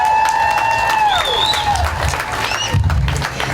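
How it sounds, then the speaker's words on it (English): A crowd at an outdoor Pride celebration applauding, a soft steady patter of clapping with scattered whistles and cheers mixed in. "Let's give a round of applause, please."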